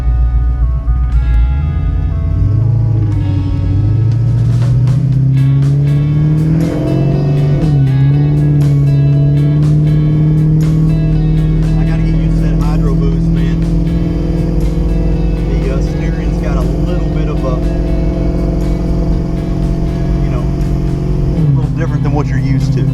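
Steady engine drone of a 1967 Camaro on a test drive in Kentucky, close and continuous from inside the car, with gear changes shifting the pitch and people talking over it.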